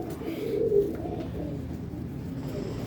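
A soft, low coo from a female Teddy pigeon rolls out near the start, then fades into a muffled, steady background murmur.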